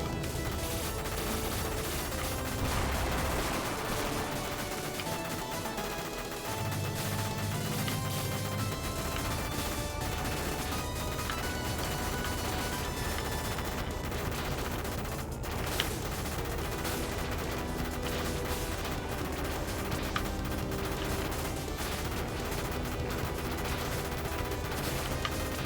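Continuous video game gunfire from Contra Anniversary Collection, rapid shots layered with game music and blasts, steady and dense throughout with no pauses.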